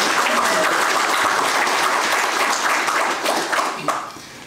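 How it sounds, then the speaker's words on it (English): A crowd at a veteran-owned small business accelerator demo day applauds a presenter, thick continuous clapping that holds steady and then thins out and fades near the end. "Round of applause for Jeremy."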